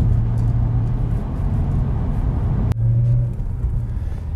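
An MG ZT260 V8 car driving on Cornish roads, a steady low engine drone and road rumble throughout, with a brief click midway and the tone shifting slightly after.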